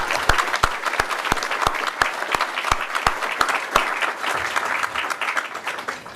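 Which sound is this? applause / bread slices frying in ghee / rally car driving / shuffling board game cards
applause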